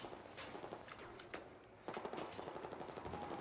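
Gunfire in Battlefield 4, a burst of rapid shots up front, then dense sustained firing from the middle onward, loud and continuous with mixed game effects and no talk.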